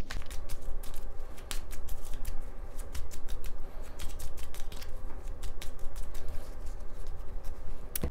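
Someone shuffles and cuts a deck of oracle cards close up, giving rapid papery flicks and snaps in uneven bursts over a quiet room.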